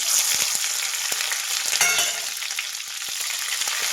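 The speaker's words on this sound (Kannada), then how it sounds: "ಕ್ಯಾಪ್ಸಿಕಮ್ನ ಹೈ ಫ್ಲೇಮಲ್ಲಿ ಉರಿ ಇಟ್ಕೊಂಡು ಫ್ರೈ ಮಾಡಿ" Capsicum strips cut lengthwise frying in hot oil over a high flame, a loud, dense, continuous sizzle with a few sharp spits and pops, close by, with no talking.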